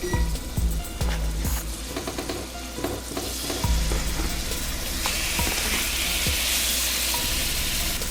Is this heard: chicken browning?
yes